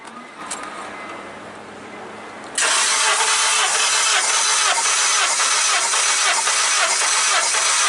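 A Honda engine cranks over during a compression test: after a short quiet stretch the starter kicks in abruptly and grinds on loudly and steadily to the end.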